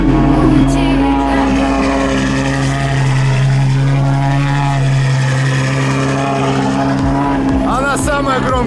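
A Ferrari engine running very loud and close, a dense steady roar with strong low hum, while voices talk over it throughout.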